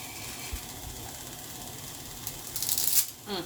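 Dry, brittle rattling of stiff spaghetti clattering into a pot, a quiet scattered rustle building into a brief louder clatter near the end.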